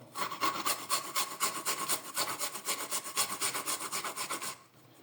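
Steady rhythmic grinding and rubbing as garlic and ginger are crushed, repeating quickly for several seconds before stopping.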